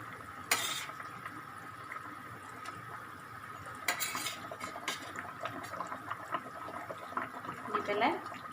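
Fried fish pieces go into a simmering curry in a pot, with a couple of sharp metallic clinks, soft bubbling and stirring scrapes, close but fairly quiet.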